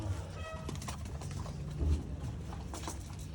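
Pigeons coo softly in a coop, a low murmuring call rising briefly amid faint background noise, fairly distant and quiet.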